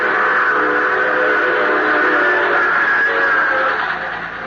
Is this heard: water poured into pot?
no